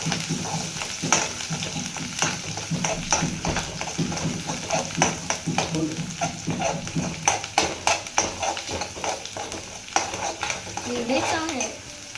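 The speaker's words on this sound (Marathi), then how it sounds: "हा मसाला आपण मिक्स करून घेणार आहोत" Ground masala for shev bhaji fries with cumin in a hot pan and is stirred steadily, giving a constant sizzle with rhythmic scraping strokes of a spoon against the metal, loud and close throughout.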